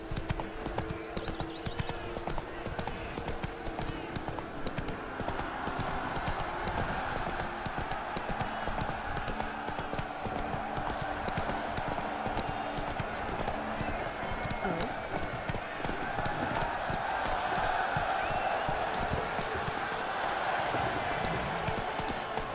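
Roach the horse gallops in The Witcher 3 video game, with steady, rhythmic hoofbeats that continue throughout over a constant game ambience, and a voice talks over them.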